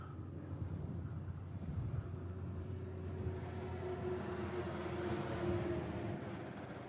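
A Japan Airlines Boeing 767 jet at Honolulu airport gives a steady, distant engine roar with a low rumbling hum, holding level throughout and swelling slightly near the end.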